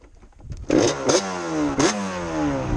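A Honda Cub motorcycle's 421 engine revs and sputters loudly while climbing a hill, with two sharp throttle bursts rising over a steady low drone that never reaches the power band.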